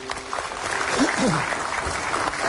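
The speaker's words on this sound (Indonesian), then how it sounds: "Oke, tepuk tangan lagi buat mereka berdua." Audience applause on a TV talk show for two young keyboard players, a dense steady clatter of clapping that fills the whole stretch, with a voice briefly heard over it.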